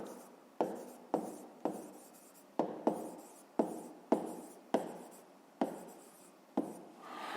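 A pen writing numbers on paper for a fifth-grade math exercise: close, scratchy strokes repeating in a steady rhythm of about a dozen short bursts, each fading quickly, with no voice over them.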